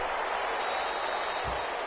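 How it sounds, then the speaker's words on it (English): Crowd clapping on the sidelines of a football video game broadcast, a steady wash of distant applause running throughout at moderate level, with a brief low thump near the end. "That's why you hear that clapping on the sidelines, right?"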